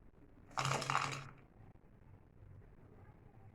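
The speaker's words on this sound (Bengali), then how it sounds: "পকোড়াগুলো কতটা ক্রিস্পি হয়েছে সেটা আমি আপনাদের শোনানোর চেষ্টা করছি" Crispy green pea pakoras crunched close up: one short, bright burst of crackling lasting about a second, followed by a faint, quiet background.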